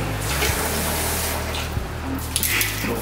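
Ice water pours steadily for black-and-white film development, a continuous splashing flow like a running tap, close and fairly loud with no talk.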